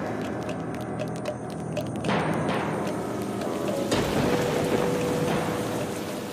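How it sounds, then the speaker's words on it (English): Heavy rain falls across the savanna of southern Niger at the end of May, a steady broadband hiss that swells louder partway through and keeps pouring without pause. "At the end of the month of May, heavy rain falls on southern Niger."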